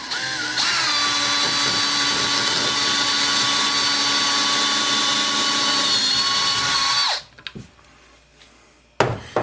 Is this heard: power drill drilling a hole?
yes